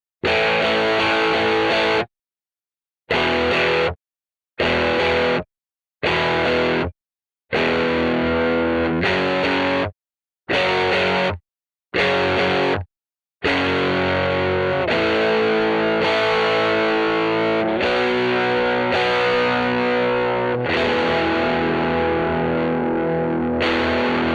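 A distorted electric guitar plays chords through a loud 1979 Fender Pro Reverb tube amp, starting with short choppy stabs separated by silences, then settling into sustained ringing riffs.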